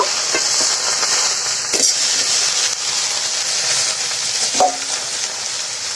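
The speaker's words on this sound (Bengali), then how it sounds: "উল্টিয়ে পাল্টিয়ে এই পেঁয়াজ রসুনগুলো উপরের দিকে দিয়ে দিই তা না হলে তলে পুড়ে যেতে পারে" Onion and garlic frying in a pan and being turned with a spatula, a loud continuous sizzle broken by a few sharp scrapes and clinks of stirring, close up and with no voices.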